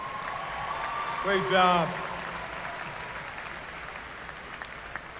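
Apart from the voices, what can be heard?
audience applause at commencement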